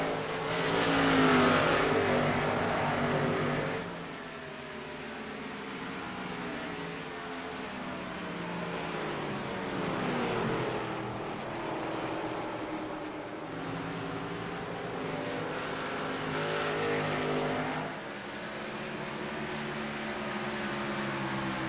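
Race cars lapping the track at New Hampshire during an ISCA stock car race, engines swelling and fading as cars pass in repeated waves, loud and continuous without any talk.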